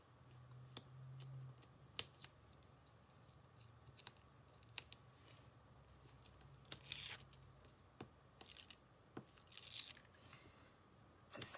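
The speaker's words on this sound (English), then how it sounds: "Satisfying sound peeling that off." Adhesive backing strips are peeled off paper pieces during card making, giving quiet ripping and crinkling sounds with sharp ticks spread across a hushed tabletop, close and faint.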